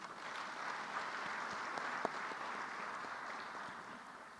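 Applause fills a Senate chamber as a dense, even patter of many hands, fairly soft and distant, with one sharper clap near the middle and no voices over it.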